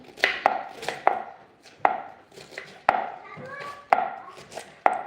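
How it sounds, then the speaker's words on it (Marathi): A knife chops cauliflower finely on a board, making close, crisp, uneven taps repeated about every half second to a second, with no voices. "आता ही गोबी बारीक चिरून घेते बारीक चिरून घेते मी अशी बारीक चिरायची"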